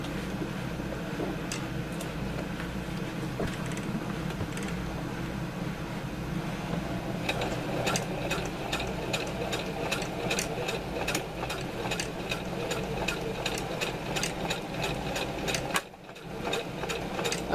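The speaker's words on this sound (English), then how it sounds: "It's just 2 lines of stitching." A sewing machine stitches a cargo strap in a continuous close mechanical hum with a fast regular ticking needle rhythm, running steadily before stopping briefly near the end and starting again.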